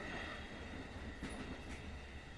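Inside a moving train carriage, a low steady rumble of wheels on track continues with faint rhythmic clicks and a soft squeal, heard quietly with no talking.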